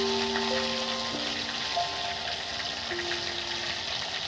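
Stuffed pointed gourd (parwal) fries in hot oil in a wok, giving a steady, even sizzle that runs close and unbroken. Faint tonal hums sit in the background, and no one speaks.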